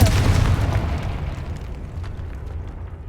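A Confringo blasting curse erupts in Hogwarts Legacy: one loud, close, booming blast that hits at once and then rumbles and decays over a few seconds, with no voices over it.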